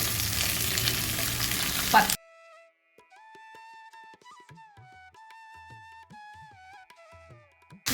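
Brinjal and mixed vegetables sauté in oil in a pan for kuzhambu, giving a loud, dense sizzle for about two seconds before it cuts off and soft melodic tones take over.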